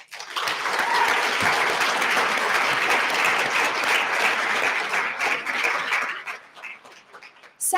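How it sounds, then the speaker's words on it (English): Full audience applause at a culinary school graduation ceremony, a dense, sustained roar of many hands clapping at once that holds steady for several seconds and then thins out near the end. "not only do you all deserve a round of applause, we should all applaud our wonderful chef and school"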